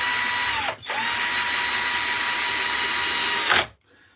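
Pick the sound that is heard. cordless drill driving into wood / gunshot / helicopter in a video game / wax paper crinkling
cordless drill driving into wood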